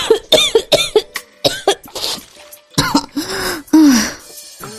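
A woman coughs loudly while trying to hold back laughter, a string of sharp, throaty bursts, some close together and some spaced apart, with gasping breaths between and no speech.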